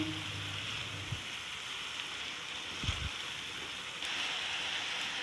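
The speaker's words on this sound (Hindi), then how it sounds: "थोड़ा सा भून लूँगी मसालों को" Spices fry in a hot pan for chicken paratha, giving a soft, steady sizzle that runs throughout at low level, briefly brightening near the end, with no talking.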